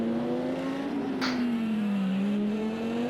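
Nissan GTR Nismo GT race car engine in a sim racing game at Spa, a loud steady close-up drone with a slowly shifting pitch that dips slightly and rises again, running alone.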